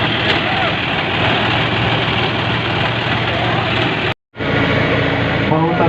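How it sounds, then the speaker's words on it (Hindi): A tractor engine roars at a tractor pulling contest, a loud, sustained low rumble that cuts out for a moment midway and then carries on. "दोनों ट्रैक्टर जल्द से जल्द ग्राउंड से बाहर गए"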